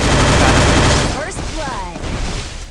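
Rapid automatic gunfire in the video game Free Fire, a loud burst of shots in the first second that fades into a tail while a voice speaks over the remainder.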